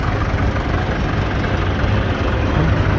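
A vintage Massey Ferguson tractor, still in working condition, chugs along in an outdoor show parade, its engine a steady low rumbling idle that stays loud and close throughout.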